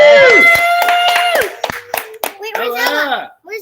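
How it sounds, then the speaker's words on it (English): Children and adults at a school board meeting clap and cheer for a student, with a whoop over scattered hand claps and excited voices that fade in and out. "We got a cheering section."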